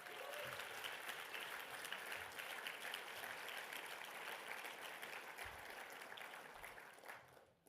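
An audience at a planning awards ceremony applauds steadily, a dense wash of many hands clapping in a hall, sustained and then fading at the end.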